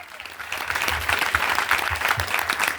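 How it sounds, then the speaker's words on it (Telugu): A church congregation claps in praise during a sermon, with loud, sustained applause from a crowd building in and staying dense and rhythmic throughout. "చప్పట్లు కొట్టి దేవునికి స్తుతులు చెల్లించుదాం గట్టిగా, ఇంకా గట్టిగా"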